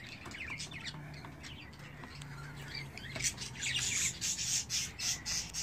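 Pet budgerigars in a cage squawk and chirp in bursts, growing louder and busier in the second half over a steady rustling background.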